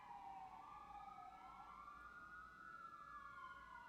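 A passing emergency siren wails outdoors in slow sweeping rises and falls, heard at a steady, somewhat distant level with faint road rumble and no voices.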